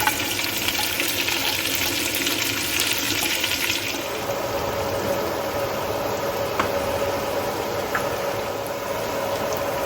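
Onions go into a pan of spiced kalijira rice frying on the stove, bringing a loud, dense sizzling hiss that eases after about four seconds into a steadier, softer frying sound.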